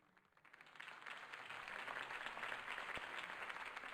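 Video game crowd applause swells from quiet to a steady, dense roar of clapping that holds to the end, broad and somewhat distant.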